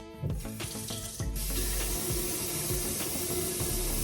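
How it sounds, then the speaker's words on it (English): Water runs from a kitchen tap in a continuous close hiss and splash, with a brief clatter as it starts, and no talking over it. "Let the water run a little bit."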